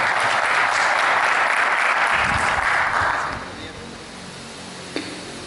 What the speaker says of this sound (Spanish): le damos un aplauso al ingeniero Eric Pernilla